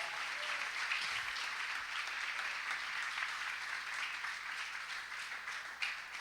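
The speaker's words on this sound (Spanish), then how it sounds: "Le vamos a regalar una ofrenda de palmas al Dios de la gloria." Steady, dense applause from a large church congregation fills the whole stretch, fairly distant and even, with a faint voice buried underneath.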